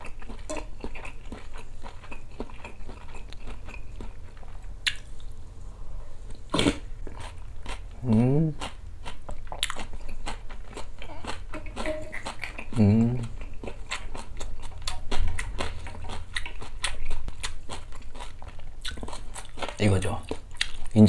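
Close-up biting and chewing of a salty Maxbong fish sausage, with crunchy bites and wet mastication repeating over the stretch, mixed with speech and light tapping.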